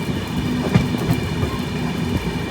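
A long-distance overnight passenger train rolls along rails from Mumbai toward Haridwar, heard from inside the carriage as a steady rumble with a few soft rhythmic wheel clacks and a small thump near the middle.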